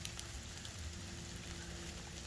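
Steady rain falls outdoors in a broad, even hiss that holds constant throughout, with a faint low hum underneath and no voices.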